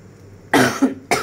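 Two harsh coughs from someone with a cold, the first a longer double burst and the second a short one after a quiet pause, close and fairly loud.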